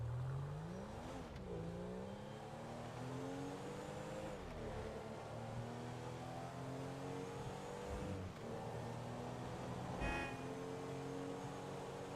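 A car in Grand Theft Auto V drives steadily with its engine droning and repeatedly revving up and shifting, a continuous game engine sound with no talk.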